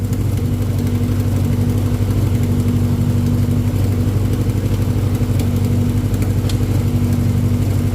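A 1994 Integra engine runs steadily at a rough, loud idle close by with a constant low hum, held in gear as the clutch is worked, with no talk over it.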